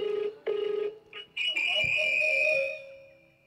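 A mobile phone ringtone plays during a live prayer meeting, with repeated bright electronic notes followed by a longer sustained melodic tone. It sounds fairly close and clear against faint room noise.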